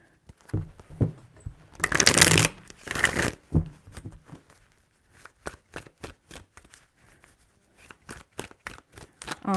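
Tarot cards riffle and snap together in a couple of loud bursts, followed by a string of quick, crisp taps and flicks, with no talking.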